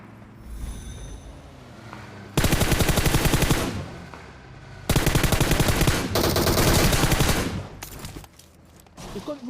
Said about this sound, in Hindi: मैं गोली चलाता हूँ।